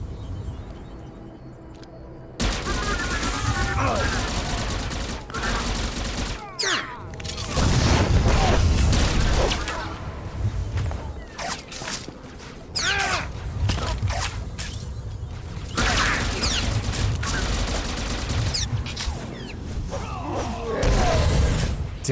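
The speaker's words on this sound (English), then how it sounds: "Damn, that grenade hit." Grenade blasts and rapid gunfire ring out during a firefight in the video game Star Wars: The Old Republic, with repeated loud booms, clattering volleys and mechanical clanks, mixed with occasional voices.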